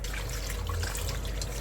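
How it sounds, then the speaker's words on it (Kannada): Rice being washed in water for sweet pongal, a steady loud splashing and trickling of liquid close by, continuous throughout with no talk. "ಈಗ ಮೊದಲಿಗೆ ಅಕ್ಕಿನ ತೊಳ್ಕೊಳ್ತಾ ಇದ್ದೀನಿ"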